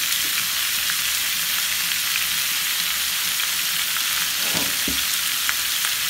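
Meat sears in a hot frying pan with a loud, constant hiss, and a couple of short clinks or stirs come late.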